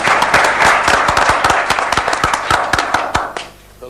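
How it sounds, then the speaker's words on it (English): An audience applauds a volunteer at a technology presentation, with a burst of close, crisp hand claps that thins out and stops abruptly near the end. "A round of applause for our volunteer there,"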